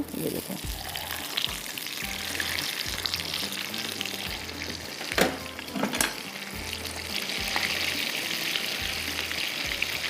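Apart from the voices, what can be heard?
frying tikka boti shashlik in a pan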